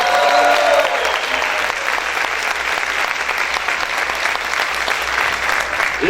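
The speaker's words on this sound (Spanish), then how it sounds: "¿Cuántos pueden gritar y aplaudir más fuerte al Señor?" A church congregation applauding loudly and continuously, a dense wash of clapping from a large crowd that holds steady for several seconds.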